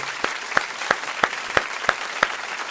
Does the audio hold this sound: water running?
no